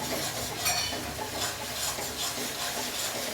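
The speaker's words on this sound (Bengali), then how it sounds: "দিয়ে ভালো করে নেড়ে চেড়ে নিচ্ছি।" Garlic and ginger paste fries in a pan on medium heat, a steady soft sizzle and hiss with gentle scraping and stirring strokes throughout.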